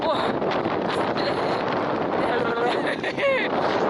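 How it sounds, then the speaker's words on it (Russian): Strong winter wind off the sea buffets the microphone in a steady, loud roar, with faint voices and a brief chirp mixed into the gusts. "Ветрище какой! Ужас!"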